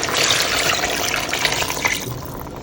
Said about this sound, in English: Add about 2 cups of water.